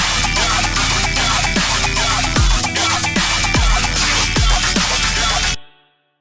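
The second part of an electronic music drop pounds at full loudness, with repeated deep kick hits and a bright, busy synth layer. It runs without a voice, then cuts off sharply near the end.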